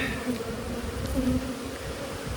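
Angry honey bees swarm during a hive requeening, giving off a steady, dense buzz that holds close and fairly loud throughout with no talk.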